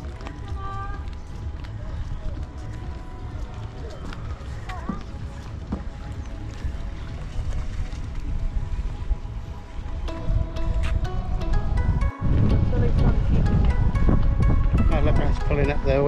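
Racing kneel-down kayaks are paddled across the water, with steady splashing under strong wind noise on the microphone, outdoors near the shore while a person talks.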